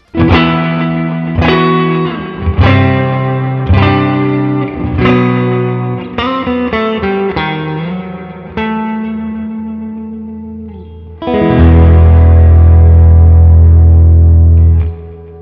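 Electric guitar through a NUX tape echo pedal: notes and chords ring out with repeating echoes and heavy effects, building into a loud sustained swell near the end, with no talking.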